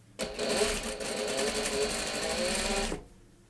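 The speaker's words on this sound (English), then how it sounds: "So let's take it over to the sewing machine and start sewing." A sewing machine stitches the side seam of an upcycled T-shirt in one steady, close whirring run of about three seconds, starting and stopping abruptly with no talking over it.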